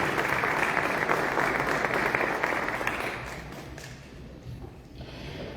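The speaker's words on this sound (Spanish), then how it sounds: "Fuertes aplausos para el licenciado Ernesto Daniel Obrero" Steady clapping from a seated audience at a formal presentation ceremony, full and even for about three seconds before thinning into scattered claps.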